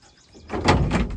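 A van's rear door latch catches with a short mechanical clunk and rattle, close and fairly loud, after a quiet start.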